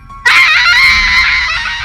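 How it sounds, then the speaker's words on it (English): A woman's loud, sustained scream bursts in after a brief quiet lead-in and holds strong for over a second and a half, used as a dramatic effect in a narrated story. "she let out everything she was holding in a loud scream"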